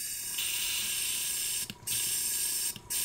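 A paint spray gun, being cleaned out between pink paint coats while prepping an Air Force 1 sneaker, sprays a steady close hiss that cuts out briefly twice and resumes.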